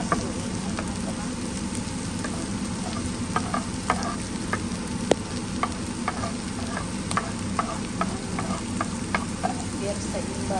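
Garlic frying in hot oil in a pan for a beef stew: a dense, continuous crackling sizzle, close and steady, dotted with small pops and light stirring ticks.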